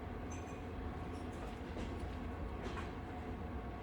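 A night train runs through a stone-walled Alpine tunnel, its wheels giving a low, dense, steady rumble that stays quiet and even throughout, with no voices.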